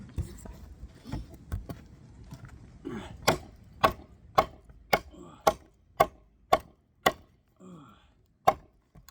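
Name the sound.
knife chopping seasoned hardwood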